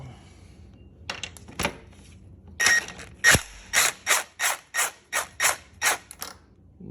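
A ratchet wrench loosens polyurethane bar bushing bolts on a Harley street glide or ultra classic motorcycle, giving a few scattered clicks and then a regular run of about ten crisp ratcheting bursts, close and clear.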